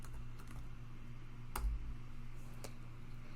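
Computer keyboard typing a short command, a few faint, sparse key clicks over a low steady hum.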